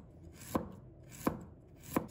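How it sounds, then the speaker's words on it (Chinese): A knife slicing peeled raw ginger into thin slices on a cutting board, three crisp, evenly spaced chops roughly seven tenths of a second apart, close and quiet with no speech. "把它切成薄片"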